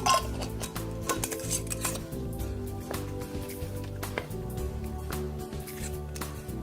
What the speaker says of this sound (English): And now just mix this up.